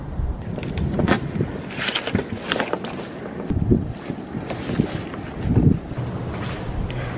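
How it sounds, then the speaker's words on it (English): Wind gusting outdoors around an abandoned building, a steady low rumble with buffeting against the microphone that swells and eases over several seconds, no voices. "It might just be the wind."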